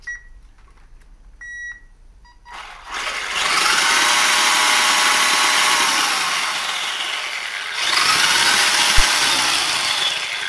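An Absima RC car's electric motor on a 2S LiPo revs up after a quiet start with faint beeps, rising to a loud, steady high-pitched whine that holds for several seconds, then surges again near the end, close to the microphone.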